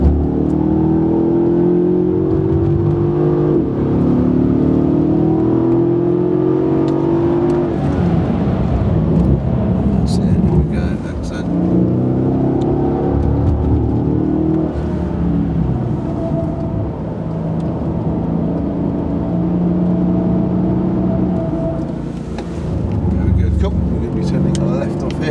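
A Mercedes-Benz E64 AMG on the Brooklands circuit accelerates out of a corner, the engine note climbing and droning loud from inside the car, with an instructor talking over it.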